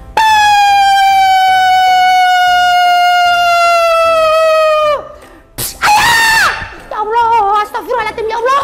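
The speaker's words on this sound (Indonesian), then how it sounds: "Ternyata suara bom teman-teman semuanya." A children's storytelling scene where a long descending siren-like wail gives way to a sudden loud bomb blast effect, followed by shorter bursts of commotion; a storyteller's voice runs through the segment.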